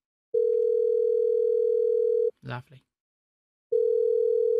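Unanswered telephone call ringing on a live scam-baiting call: a steady electronic ring tone holds for about two seconds, stops while a voice speaks briefly, then starts again.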